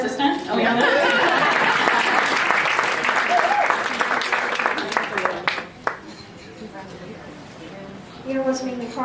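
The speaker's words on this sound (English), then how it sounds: "And a round of applause for our assistant." A party crowd applauds loudly with whoops and chatter mixed in, the clapping fading after a few seconds as voices and laughter take over, with a brief burst of claps returning at the close.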